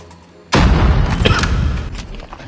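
A single loud, sharp gunshot blast from a weapon in a shooter video game erupts after a brief quiet moment, then rings out in a rumbling tail.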